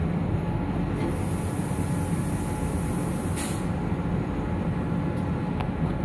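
ÖBB Talent electric train on the S-Bahn Kärnten line between Rosenbach and Villach Hbf, heard from the driver's cab: a steady, continuous low rolling rumble with faint high whine, a brief hiss midway and a light click near the end.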